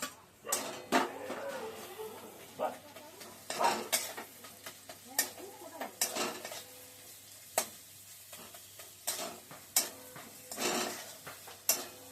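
Dried fish, onion and garlic paste frying in oil, stirred with repeated sharp scrapes and clinks of a spatula against the pan in an irregular rhythm over a soft sizzle.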